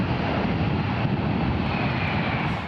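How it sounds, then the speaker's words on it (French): A large airplane passes low overhead on a positioning flight between Liège and Maastricht. Its engines make a steady, loud, broadband roar that fills the whole stretch without pause, with no voices. "ce sont des gros avions et qui arrivent à basse altitude et qui font effectivement beaucoup de bruit"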